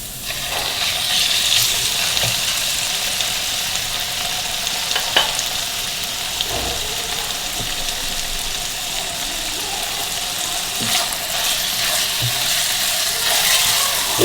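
Chicken cubes frying in a pan for a pizza roll filling, a steady close sizzle with occasional stirring clicks and scrapes throughout.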